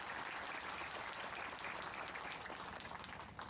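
Sustained audience applause at an evening religious gathering in Ajung led by young people, a dense wash of clapping filling the whole stretch with no speech over it.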